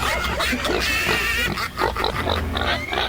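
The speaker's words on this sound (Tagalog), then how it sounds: "Ba't baboy to?" Several pig oinks and grunts, fairly loud and close, mixed with busy background noise and a few scattered voices during a live radio broadcast.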